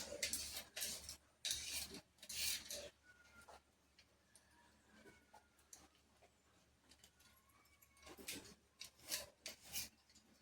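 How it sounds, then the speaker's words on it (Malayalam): A hand peeler scrapes the skin off a vegetable in quick rasping strokes that come in bursts with short pauses, faint and close. "നമുക്ക് ഈ പീലർ കൊണ്ടാക്കുമ്പോൾ അധികം പോകത്തില്ല"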